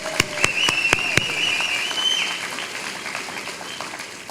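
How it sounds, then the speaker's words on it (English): A crowd claps at a college commencement ceremony, with a few sharp, distinct claps at first swelling into moderate, steady applause, with a whistle rising above it early on. "We should clap for that."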